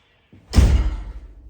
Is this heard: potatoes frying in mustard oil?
no